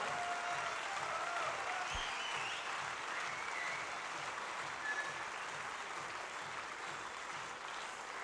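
Audience applause fills a squash world championship semifinal arena, a dense, steady wash of clapping that holds at an even level throughout with no talk over it.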